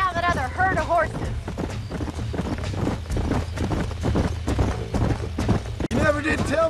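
Hooves clip-clop in quick, continuous galloping rhythm from horses in Red Dead Redemption, close and steady beneath in-game dialogue voices.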